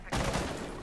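A sudden burst of loud gunfire erupts after a brief quiet moment, sustained and dense like rapid shots in Rainbow Six Siege.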